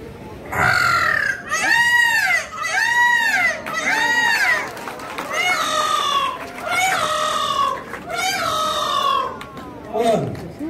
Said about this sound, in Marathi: मोर आपल्या गर्लफ्रेंडला आवाज देतो